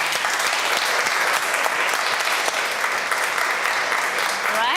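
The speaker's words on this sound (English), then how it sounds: "Let's give her a round of applause." Loud, sustained audience applause at an online media awards ceremony, a dense, even wall of clapping from a large crowd that continues without a break, with a voice faintly beneath it.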